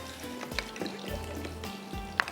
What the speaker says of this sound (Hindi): अब इसके अंदर जाएगा ये पेस्ट जो हमने पीस के रखा है